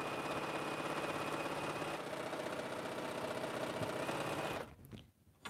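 A sewing machine stitching quilt rows together for an African quilt, running at a steady whirring hum for over four seconds before stopping with a few small clicks.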